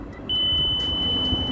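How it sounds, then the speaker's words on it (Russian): An electrical continuity tester beeps while checking a car ignition switch and wiring, a single sharp steady electronic tone starting abruptly and holding loud and unbroken. "Пищит? Пищит. Значит, работает."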